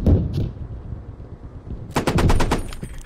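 A .50 cal machine gun fires in the military shooter Squad. A single heavy report is followed by quiet, then a loud close burst of about half a dozen rapid shots.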